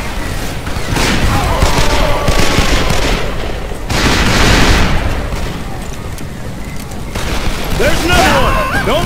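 Gunfire and explosions in the Western shooter game Call of Juarez: Bound in Blood, with repeated loud bursts and booms over continuous rumbling action, while voices talk over the fighting.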